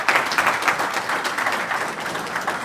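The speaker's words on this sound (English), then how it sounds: "A round of applause for Dr." Audience applause for a panelist at a stakeholder forum on transitional justice, a steady wash of many hands clapping throughout, moderately loud and continuous with no speech.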